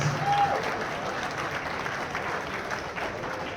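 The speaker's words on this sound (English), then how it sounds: "Big round of applause, folks." An audience in a hall applauds at a bowling hall of fame induction ceremony, a dense, steady patter of clapping from a sizable crowd that holds evenly throughout.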